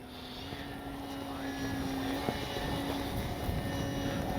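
A Flex RV8 10E G2 RC airplane drones overhead in flight, a steady propeller-and-motor hum that slowly grows louder over several seconds, with no talk.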